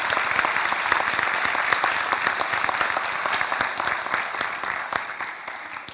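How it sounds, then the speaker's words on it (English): High school scholarship ceremony crowd clapping for the recipients, sustained, dense applause from a sizable audience that stays strong and slowly eases toward the end, with no speech over it. "Give them a round of applause,"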